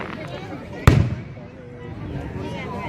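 A single loud firework blast bursts about a second in, then its echo tails off into faint background hiss and murmur.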